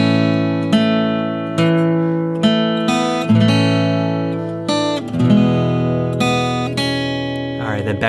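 Acoustic guitar plays a chord-melody arrangement of a song, with ringing strummed chords and picked melody notes in a steady, close, continuous phrase.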